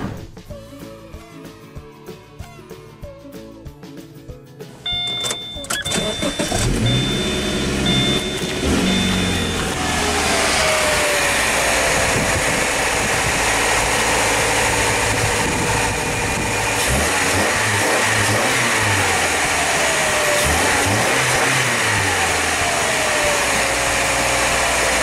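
A 2013 Subaru 2.5L engine with a replaced clogged catalytic converter kicks in and runs loudly up close, its revs climbing and dropping back a few times over a steady rumbling idle.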